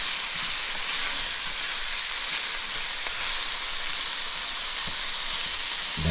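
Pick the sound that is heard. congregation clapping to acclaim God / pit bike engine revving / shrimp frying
shrimp frying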